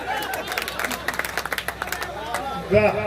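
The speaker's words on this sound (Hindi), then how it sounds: "थोड़ी सी तालियां कमजोर है भाई साहब, थोड़ी सी और बजाओ" Audience at a Hindi kavi sammelan poetry gathering clapping in a burst of rapid claps amid crowd murmur, followed by a louder swell of noise near the end.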